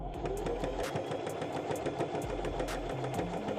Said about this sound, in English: we're going to sew the bottom together